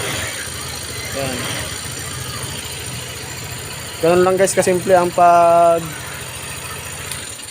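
A motorcycle engine idles steadily after a sidestand sensor repair, with talk over it, then throttles up in a couple of short, louder revving bursts near the end before settling back down.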